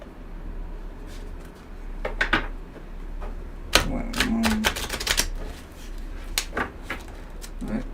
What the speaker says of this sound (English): these are still new cards actually, so it's harder to shuffle